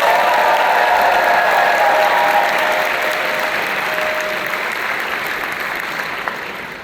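A large audience at a graduation ceremony claps steadily and loudly, the applause slowly tapering off toward the end, with a few faint sustained tones beneath.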